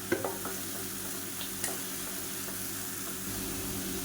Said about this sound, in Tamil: இப்போ இது பச்சை வாசனை போகிற அளவுக்கு நல்லா வதக்கி விட்டுக்கலாம்